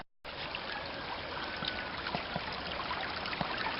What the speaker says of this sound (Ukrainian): Ось він, цей струмочок,